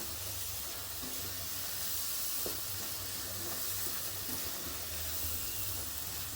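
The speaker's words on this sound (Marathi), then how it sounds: "आता वाटण सुद्धा आपण थोडं परतूया" Ground masala paste for a crab curry sautés in a pan, giving a faint, steady sizzle and hiss throughout, with no voices over it.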